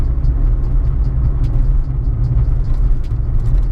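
Road noise fills the cabin of a moving Ford Fiesta RS Turbo, a loud, steady low rumble and tyre drone that holds constant without any talking.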